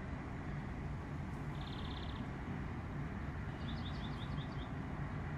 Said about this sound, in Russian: Птички, слышите, как? Ой, как приятно слушать птичек.